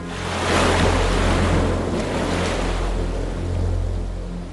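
Open-ocean waves of about 3 to 4.5 metres, a loud, broad rushing surge that swells early, eases, then builds again, with wind noise buffeting the microphone and no voices.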